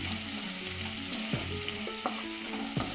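Onions fry in a pan for a cucumber and tomato curry, a steady close sizzle with a few stirring scrapes and no talking.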